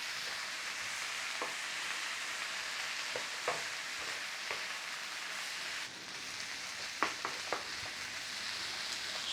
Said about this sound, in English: So once you've softened the onions up, that's enough.